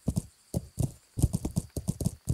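Hooves of a ridden horse clip-clop in a steady galloping rhythm inside the medieval role-playing game Kingdom Come: Deliverance, close and fairly loud, each beat a crisp double strike with no voices over them.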